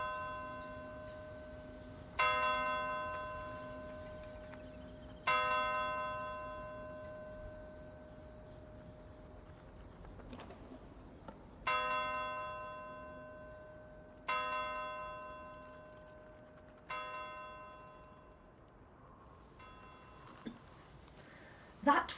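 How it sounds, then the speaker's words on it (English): A tolling bell in a radio drama of Macbeth, single deep resonant strikes repeating about every three seconds, each ringing out and slowly fading, against a quiet background with faint crickets. "The bell invites me."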